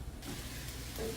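A spoonful of butter sizzles and hisses with chicken in a pan, a steady soft frying crackle that continues without a break and with no voices.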